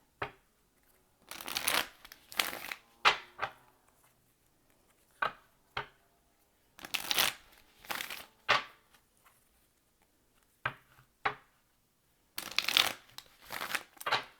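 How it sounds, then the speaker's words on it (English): Tarot cards being shuffled by hand in repeated bursts of riffling and flicking, separated by short pauses, fairly close with no talk over them. "One more shuffle."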